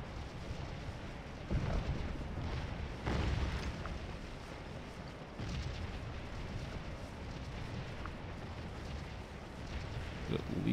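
Confederate artillery guns at Antietam firing from the hills in Scourge of War, with several heavy booms spaced seconds apart over a steady battlefield din, moderately distant.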